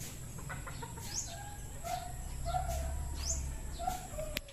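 Gamefowl breeder roosters at a game farm in San Pablo City, Laguna, let out several short clucks and squawky calls at an even pace, fairly close, over a low steady rumble and a faint high hiss, with no talking.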